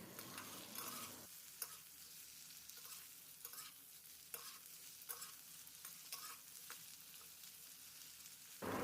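Close, steady sizzle of potato, capsicum and onion frying in a pan, broken by repeated scraping stir strokes every second or so, with no voices.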